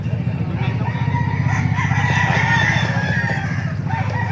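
Chickens at a Baliuag market stall crow and cluck over a steady low rumble of crowd and traffic, with the bird calls fairly faint and mixed into the busy background.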